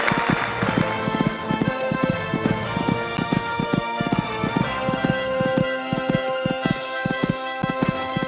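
Horse cantering along an eventing cross-country course, hooves drumming in a steady three-beat rhythm on turf, close and clear throughout with no talk over it.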